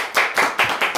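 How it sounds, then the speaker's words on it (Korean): An audience at an outdoor lecture during a mountain outreach gathering claps in a short, rhythmic burst of about four or five crisp, evenly spaced claps, close and fairly loud, with no talking. "박수."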